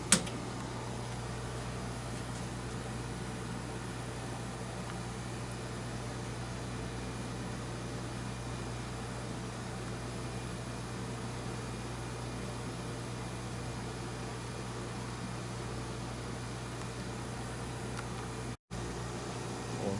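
A switched-on laboratory vacuum oven runs with a steady, even mechanical hum and low tonal drone, unchanging for twenty seconds with no talk.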